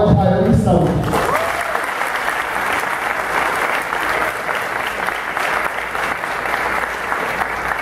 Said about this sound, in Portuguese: gostaria que vocês recebessem uma salva de palmas, Rayan e Sam.